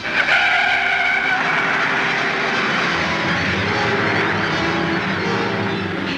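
A stolen 1940s police squad car skids away with a loud, sustained tyre screech over a roaring engine, close and continuous.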